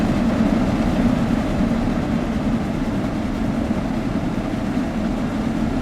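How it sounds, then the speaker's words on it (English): A steam locomotive in Train Sim World 6 runs at about 80 miles per hour, giving a loud, steady low rumble and churn of wheels and machinery that holds unbroken throughout, with no voices. "It's a great feeling when you get a steam train up to this speed"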